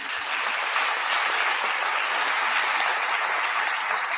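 Audience applause at the presidential investiture of Dr. Cheryl Green, following congratulations from UW: steady, dense clapping from a large crowd that holds at an even level throughout without any voices.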